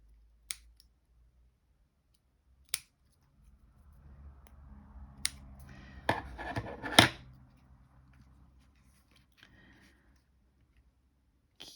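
Scissors trim paper for a handmade children's birthday card, a few sharp isolated snips spaced apart, then a denser cluster of quick cuts and rustling, close and fairly quiet.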